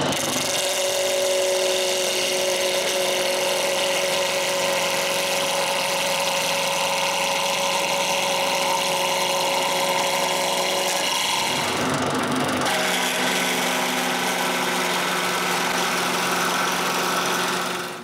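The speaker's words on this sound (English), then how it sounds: "I just put it back on the lathe and turn a nice cylinder." A wood lathe turns a cylinder for a musical nutcracker body, giving a steady motor hum with a continuous rough cutting hiss, a brief change in tone partway through, then resuming.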